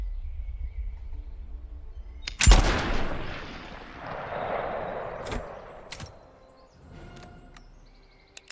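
A flintlock pistol in a video game fires once with a sharp, loud crack, then a long smoky rumbling tail fades out, followed by a few faint clicks and small reload sounds.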